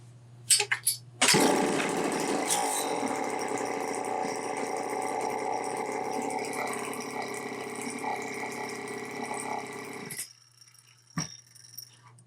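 A Homelite XL-903 chainsaw's two-stroke engine sputters, then roars to life and runs at a high, buzzing rev for several seconds before cutting off.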